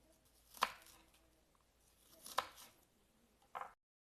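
A knife chops through kibbeh dough in three sharp cuts, two strong blows and a softer final one, each close and crisp against a quiet kitchen.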